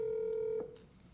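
Telephone ringback tone during an outgoing call, a single steady electronic tone held for over half a second that then cuts off, leaving faint background hiss, with no talking.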